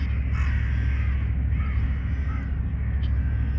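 Crows caw repeatedly at a moderate distance near a lake, where a belly boat floats beside a large ship, their calls rising over a steady low rumble of water and engine noise.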